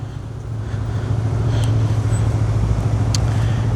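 A Yamaha MT-125 motorcycle pulls away in first gear on a street in Geneva, its engine a steady, close low drone that swells slightly as it gets moving.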